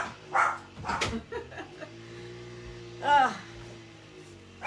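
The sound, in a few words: dog barking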